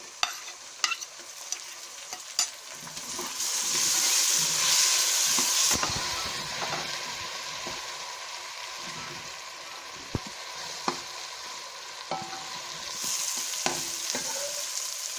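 Onions and ginger-garlic paste frying and browning in a pan for chicken pasta: a continuous close sizzle with stirring and occasional clinks of a utensil against the pan, loudest in the middle stretch.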